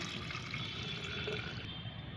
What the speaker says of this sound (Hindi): मैंने 1 गिलास पानी में ये फर्टिलाइज़र बनाया था तो मैं 2 गिलास इसमें सादा पानी मिलाती हूँ